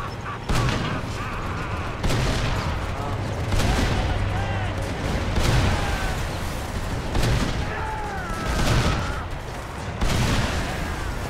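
Repeated booming tank cannon fire and explosions in Mercenaries 2, heavy blasts recurring every second or two over continuous battle rumble, with a voice talking throughout.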